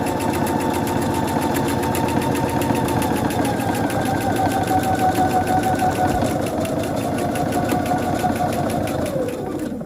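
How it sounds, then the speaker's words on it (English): A sewing machine stitching fabric around painted hearts for a hanging wall pocket, a fast continuous whirring buzz heard close for several seconds before it winds down at the end. "Here we are over at the sewing machine, and as you can see, we have our painted hearts"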